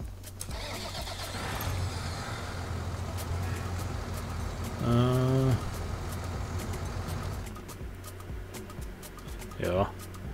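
A tractor engine in Farming Simulator 19 rumbles steadily as the tractor drives off, with a horn-like tone rising mid-way, under someone talking.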